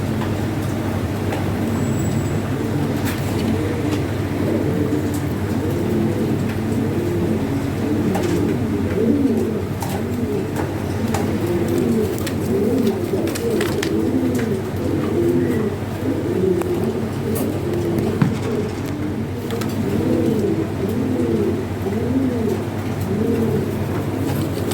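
A pair of European Toy Lahori pigeons and others nearby coo continuously in overlapping rolling phrases, loud and close, over a steady low hum for the whole stretch, with no speech.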